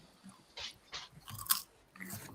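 A crunchy spicy candy snack is bitten and chewed up close, giving several sharp, dry crunches spaced apart, quiet but crisp against a faint background.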